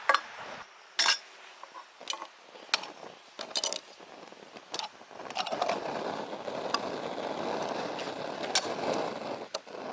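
Metallic clinks and scrapes of a Trangia Mini camping stove being snuffed out, several sharp rattles and taps followed by a steadier low rustle as the flame is smothered.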